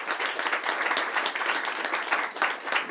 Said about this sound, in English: Please join me in giving a warm round of applause to welcome our speaker.